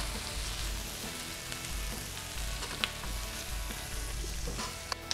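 Tomatoes are stirred into a hot pan with onion, giving a steady, soft sizzle and frying hiss up close, broken by a few small clinks of stirring.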